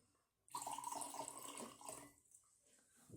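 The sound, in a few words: water being poured off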